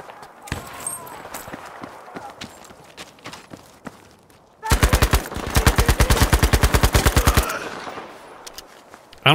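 Rapid automatic gunfire in Battlefield V, a loud sustained burst of evenly spaced shots following scattered quieter single shots and footsteps-like clatter.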